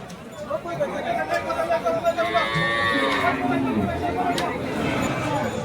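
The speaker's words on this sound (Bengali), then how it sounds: "হাটে শাহিওয়াল গরুগুলা, শাহিওয়াল দেশাল গরুগুলা বেশ সুন্দর সুন্দর গরু আসছে এবার।" Sahiwal cattle at a crowded village cattle market, a drawn-out moo rising through a dense babble of people talking nearby.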